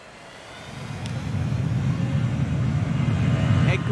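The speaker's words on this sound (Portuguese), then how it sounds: "aqui tem avião pousando e levantando a todo segundo" Aircraft engines droning in Transport Fever 2, a steady broadband rumble that swells over a few seconds as planes land and take off, with faint higher whines on top and no talk.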